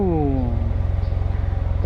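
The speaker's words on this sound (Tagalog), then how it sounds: "Ganda ng tunog. Parang kotse yung tunog." A SYM Maxsym TL 508 scooter engine revving up close: a loud burst that drops away quickly, then settles into a steady, pulsing low throb at idle.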